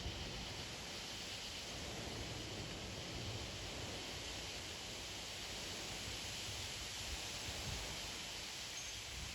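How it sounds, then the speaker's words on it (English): Steady rain during an evening severe thunderstorm with strong wind gusts, a soft, continuous hiss without breaks, fairly faint and even, with no voices. "Starting to rain quite a bit."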